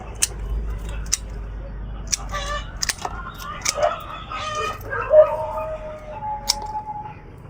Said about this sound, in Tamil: கிளையை எப்படி கட் பண்ணணும்னா பாருங்கள்